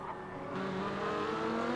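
GT race cars braking into the La Source hairpin during the 24 Hours of Spa, engines droning steadily with downshifting tones, fairly close and continuous without talk.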